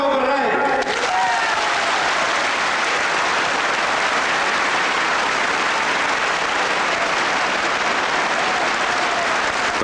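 A large crowd applauds and cheers Mário Soares in Portugal after the Carnation Revolution, a dense, continuous roar of clapping at full volume, with voices mixed in throughout.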